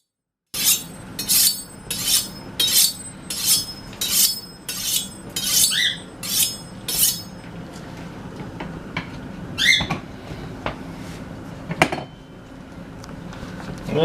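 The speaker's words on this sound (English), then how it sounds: "I was just giving the knife a little sharpening" A kitchen knife is sharpened with a quick run of about ten rhythmic metallic strokes close up, followed by a few scattered squeaks and clinks against faint background noise.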